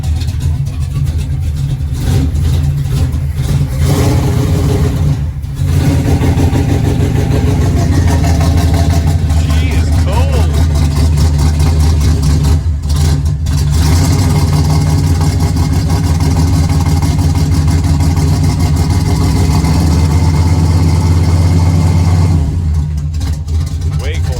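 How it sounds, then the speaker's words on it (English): A beefy big block Mopar V8 in a 1967 Dodge Coronet idles with a loud, steady rumble close by, chugging evenly for the whole stretch with a few brief dips. "The sound of a beefy, big block Mopar just chugging along."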